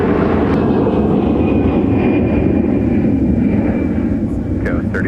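An airliner at Minneapolis–Saint Paul airport produces a continuous low, heavy roar, with a voice talking over it throughout.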